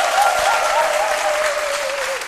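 Studio audience applauding at the start of a French lunchtime show, a full steady burst of clapping with a faint whistle or cheer running through it, tapering slightly at the end.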